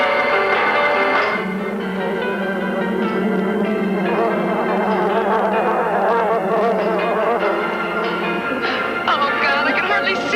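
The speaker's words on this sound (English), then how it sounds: "We want to get those bees mad at you." Angry bees swarm around a car, a dense, loud, continuous buzzing that fills the scene, with shouting and talk mixed in and dramatic music underneath.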